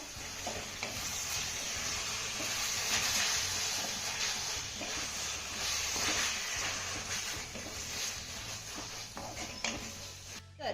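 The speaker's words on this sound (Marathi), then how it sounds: "हे सर्व साहित्य आपल्याला पुन्हा दोन मिनिटं चांगलं परतून घ्यायचं आहे" A spiced brinjal and fenugreek mixture with peanut powder sautés in a pan with a steady, close sizzle and frying hiss, plus scraping stirs throughout and no talking.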